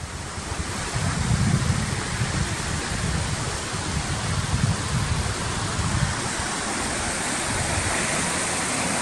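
Floodwater rushes steadily after a heavy downpour on the flooded plain at Sykia, Halkidiki, a loud, continuous roaring wash with no pauses, close by and alone.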